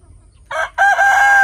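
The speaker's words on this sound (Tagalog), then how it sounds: "Ang mga manok guys." Orpington and Rhode Island chickens, with a brief loud cluck followed by a sustained crowing call, close by in a rural yard.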